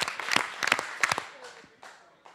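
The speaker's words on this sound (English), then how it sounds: "somebody's now just like clapping continuously" Audience at a biology summit clapping in a quick burst of sharp claps, then a few scattered, fading claps, fairly faint and with no talk.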